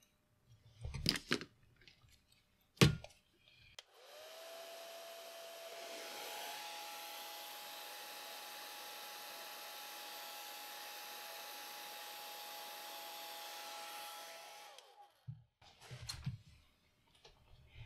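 A hair dryer blows steadily on a wet watercolor painting of a lamb for about eleven seconds, a loud even whoosh with a faint whine, framed by brief clicks and handling noises before and after.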